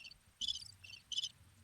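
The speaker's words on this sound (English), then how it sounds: "Come on, Amir, don't make me put no crickets on you" Cricket chirping as a sound effect, two or three quick trilled bursts repeating at a steady pace, faint and isolated against a quiet low hum.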